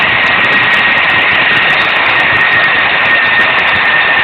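Airbus A321-200 jet engines roar at full takeoff thrust in the Infinite Flight simulator on runway 25R at Los Angeles LAX, a loud, steady, broadband rush with a constant high whine running throughout.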